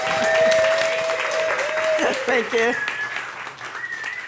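An audience applauds as a speaker is introduced, steady clapping through most of the stretch, thinning toward the end as a voice speaks briefly.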